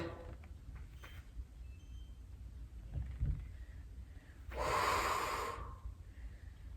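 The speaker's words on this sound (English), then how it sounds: "Inhale, exhale." Breathing during an at-home full-body dumbbell strength workout: a low, airy inhale builds softly, then one strong, forceful exhale rushes out close to the mic, and quiet room noise follows.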